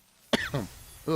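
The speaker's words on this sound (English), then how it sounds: "Sorry again for the coughs, everybody" A single sharp cough bursts out from someone streaming an MTG Arena draft, followed by short throaty vocal sounds and another cough-like exhale, close to the microphone in an otherwise quiet room.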